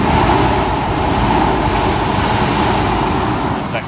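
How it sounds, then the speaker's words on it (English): A Chevy S10 Blazer engine runs steadily at idle after a cold start, its engine clutch fan stuck engaged and roaring, giving a loud, continuous whooshing drone with no talking. "That clutch fan is not disengaging."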